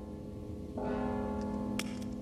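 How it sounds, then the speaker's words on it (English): A deep bell tolls once in the stealth video game Mark of the Ninja, ringing out with a sustained, fading hum over a quiet background. "Don't you hear the bell?"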